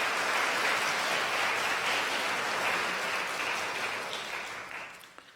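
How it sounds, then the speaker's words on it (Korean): A church congregation at a Sunday worship service gives welcoming applause, a broad wash of many hands clapping steadily that holds for several seconds and then fades away near the end. "여러분들 환영의 박수 부탁드리겠습니다."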